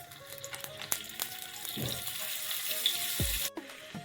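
Oil and a little butter heat in a small pan for a spiced tempering, giving a steady close sizzle with a few clinks and scrapes of a spoon, alone without talk.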